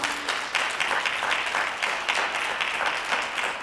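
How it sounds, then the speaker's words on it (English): Audience applause for the mayor at a school leaders' brunch in Newark, a steady roomful of clapping hands lasting several seconds with no talk over it. "Let's give him another round of applause."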